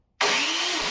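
A starter motor cranks an engine that has a no-start problem, right after a washer was fitted behind the remounted starter; a sudden, loud, steady whirring roar kicks in and holds close for under a second.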